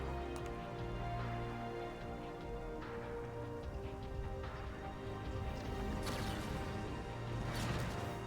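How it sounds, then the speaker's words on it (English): Rain falls steadily in the Xenoblade X open world, a soft continuous patter under a droning game soundtrack, with occasional sharper splashes and impacts. "Yeah, it's raining too."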